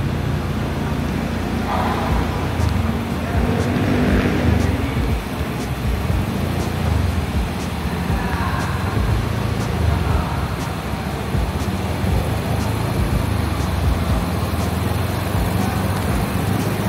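Steady roadside traffic with motorcycles and other vehicles idling and passing nearby outside an LTO office in Cagayan de Oro, a continuous engine rumble that stays fairly constant throughout.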